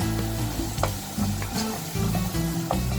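Bengali fish curry (kochi pathar jhol) sizzles in oil over a high flame, a dense, steady crackle broken by the scrape and clatter of stirring, close and fairly quiet, with no voices.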